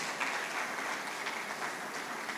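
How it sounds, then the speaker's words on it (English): Applause for the panelists at a Woodhall Capital pre-investor forum, a sustained wash of many hands clapping at moderate volume with no pauses. "we ask you all respectfully to please give them a round of applause"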